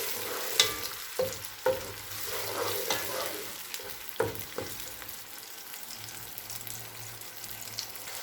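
Onion paste sizzles steadily as it fries in a pan for a beef kofta curry, with a spoon scraping and clinking against the pan in several sharp taps through the continuous hiss.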